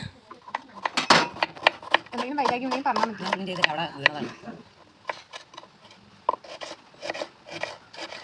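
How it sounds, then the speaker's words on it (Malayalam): Onion being finely chopped on a board, a fast run of sharp knife taps with a person talking over much of it. "നമ്മൾ എടുത്ത് വെച്ച സവോളയൊന്ന് കുഞ്ഞിതായിട്ട് അരിഞ്ഞെടുക്കാം"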